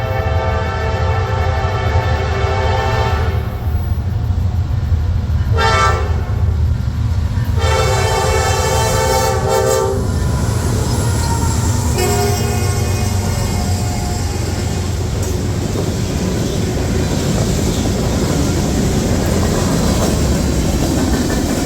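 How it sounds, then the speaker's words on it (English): A lash-up of five GE Dash 8 diesel locomotives passing close by, loud horn blasts sounding in several bursts over heavy engine rumble and rolling wheel clatter that carries on after the horn stops. "it was cool seeing these 5 Dash 8s on their way up"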